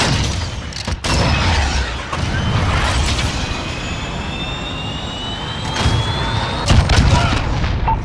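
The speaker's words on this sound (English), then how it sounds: "Jaguar 3-0, cruise missile away." In a nighttime Call of Duty Modern Warfare team deathmatch on Hackney Yard, a cruise missile strike roars loudly with a jet-like whine, rumbling booms and scattered gunfire throughout.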